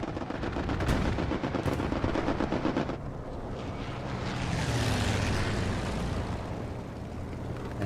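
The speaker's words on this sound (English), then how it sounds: "Rockets landing just a little bit short for 3-5 and WRTB" Rocket barrage striking the ground in the World War II shooter Hell Let Loose, dense overlapping blasts and rumbling explosions layered over distant gunfire, loud and continuous with a swelling roar midway.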